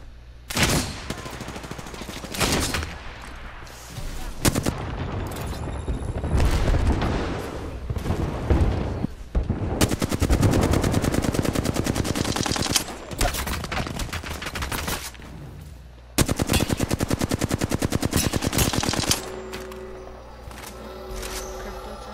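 Dense bursts of automatic gunfire and sharp sniper cracks fill a video game firefight, coming in long rapid volleys with brief pauses between them, loud and close throughout.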